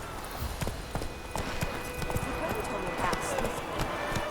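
A horse gallops in The Witcher 3, hooves beating a fast, steady clip-clop rhythm throughout over faint outdoor ambience.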